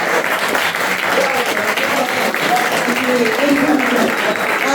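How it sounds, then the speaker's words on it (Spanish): Sustained applause from an audience welcoming exchange students from Colombia at a university book fair in Chiapas, steady and fairly loud throughout, with a voice faintly audible beneath it. "Un aplauso para ellos, hacen la mano."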